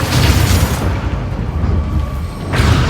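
A Bombarda spell in Hogwarts Legacy detonates with a loud, close boom that rolls out and decays over about a second, followed by a quieter rumbling lull and a second burst of noise near the end.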